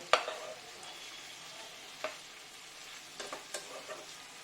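Chicken frying in a pan for khichuri is turned with a spoon, giving a low steady sizzle with a sharp clink at the start and several scattered scrapes and taps, close and without talking.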